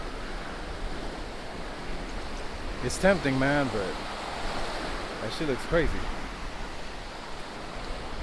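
Ocean surf washes onto a beach at Punta de Mita, a steady broadband hiss of waves under a voice talking in two short bursts.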